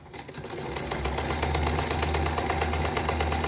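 A sewing machine stitches an edge with gold thread, running as a steady, close, loud mechanical whirr with a rapid even needle rhythm that holds for several seconds without talk.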